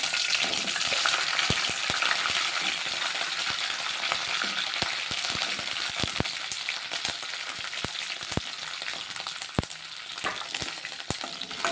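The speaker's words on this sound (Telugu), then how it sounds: "నేనైతే కట్ చేసుకున్న పచ్చిమిర్చి వేసుకుంటున్నా." Chopped green chillies frying in an oiled pan for a spicy ridge gourd and tomato chutney, a steady close sizzle broken by frequent sharp pops and crackles, with no voices.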